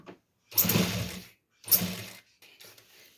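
A sewing machine stitching elastic onto a petticoat, two short close bursts of whirring mechanical stitching separated by pauses, with a fainter brief run at the end.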